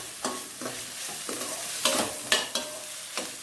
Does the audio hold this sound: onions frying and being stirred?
yes